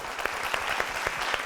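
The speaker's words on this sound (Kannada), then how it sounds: "ಇದಕ್ಕೆ ನಾನು ನಿಮ್ಮ ಮೆಂಟರ್ ದೊಡ್ಡವಾಡ ಅವರಿಗೆ ಒಂದು ಚಪ್ಪಾಳೆ ಕೊಡಬೇಕು" Applause from a singing reality show audience, honouring a contestant's mentor, comes through as a steady, moderately distant wash of handclaps with no voices over it.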